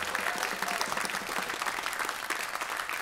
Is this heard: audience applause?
yes